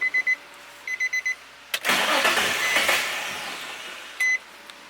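Several short electronic beeps sound, then a car fitted with a Stillen supercharger cranks and catches with a loud rising burst, settling into a fading idle before one more beep.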